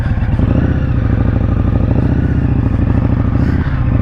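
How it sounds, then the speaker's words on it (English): A 2019 Indian Scout Bobber with a 2-into-1 exhaust pulls away at low speed, its loud, deep engine putting steadily and close throughout. "I'll just putt out of this little park area here"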